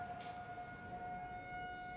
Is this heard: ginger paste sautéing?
no